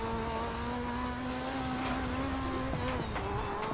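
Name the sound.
Group B rallycross car engine in video game DiRT 4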